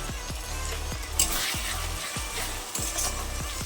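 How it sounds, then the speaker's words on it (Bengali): Masala of ginger-garlic paste frying in a pan, a steady close sizzle broken by regular scraping strokes of a spatula stirring it, with a couple of brighter metallic clinks. "আদা রসুন বাটা দিয়ে আমার মশলাটা ভালো ভাজা ভাজা হয়ে গেছে"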